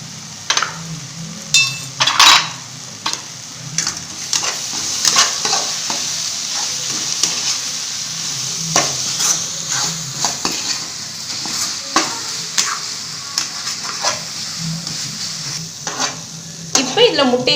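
Spiced masala with chili powder, garam masala and salt fries in a pan while a spatula stirs and scrapes it, giving a steady sizzle with frequent clinks and taps against the metal.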